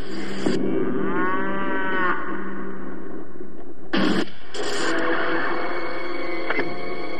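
Dairy cows pressing against farm gates moo loudly and close by, several long drawn-out calls overlapping one another with short pauses between them.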